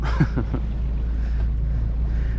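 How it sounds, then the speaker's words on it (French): A sailboat's motor hums steadily with a deep low drone, wind buffeting the microphone over open water. "à part le bruit du moteur"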